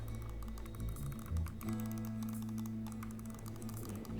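Mechanical keyboard switches clicking in a steady stream of quick taps, fairly close, with a low hum underneath and no talking.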